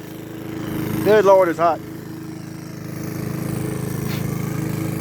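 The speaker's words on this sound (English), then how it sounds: "Got her pushing the mower right now." A push lawn mower runs steadily while mowing grass in a cemetery, its engine drone continuous throughout; someone speaks briefly over it near the start.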